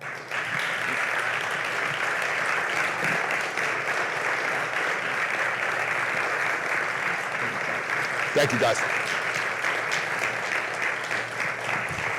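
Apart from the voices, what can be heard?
audience applause after a veteran's speech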